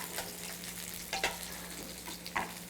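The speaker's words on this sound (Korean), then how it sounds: "양배추는 표면이 그 노릿노릿하게 될 때까지 볶아주세요" Cabbage sizzles and fries in an oiled pan at a soft, steady hiss, and two or three short scraping stirs come through near the end.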